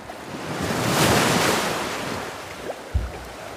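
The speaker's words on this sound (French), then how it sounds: "Là, il y a beaucoup de vagues." Lake waves splash and wash continuously around a recreational kayak, a broad close roar of water with wind buffeting the microphone and a sharp knock near the end.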